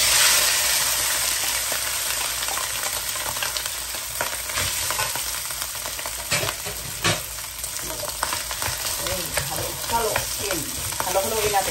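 Rice fried with Tulip pork luncheon meat and whole kernel corn sizzles steadily in a pan, with scraping stirs and clinks of the utensil breaking through the hiss, close and fairly loud, with no talk.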